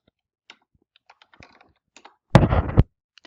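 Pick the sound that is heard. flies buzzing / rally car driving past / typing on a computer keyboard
typing on a computer keyboard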